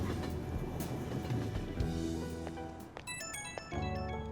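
A phone ringtone plays in Persona 5 Royal, a bright repeating electronic melody of tones over the game's background music, with no talking.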